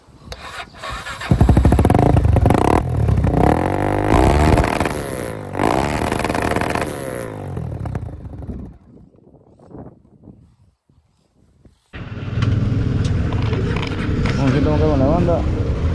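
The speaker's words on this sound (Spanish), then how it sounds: "lo lleno que suena con este escape" A Honda Tornado motorcycle with an aftermarket Protork exhaust revs loudly with a deep, full exhaust note, drops to a near-idle lull, then roars back up again.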